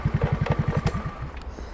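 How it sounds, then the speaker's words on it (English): A motorcycle engine idles close by on a steep road, with a rapid, even low putter that softens and fades as it is switched off. "Let me just kill the engine here"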